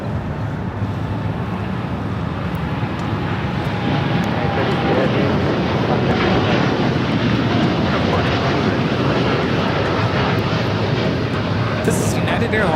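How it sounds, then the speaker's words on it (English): A United Airlines Boeing 787-9 Dreamliner takes off from LAX, bound for Tokyo Narita, as a loud, continuous broadband jet roar that stays steady throughout, heard from some distance with wind noise. "This is United Airlines Flight 32 taking off to Tokyo Narita on the 787-9 Dreamliner."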